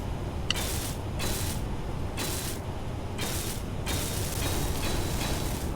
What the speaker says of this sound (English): And then we can weld all of this up.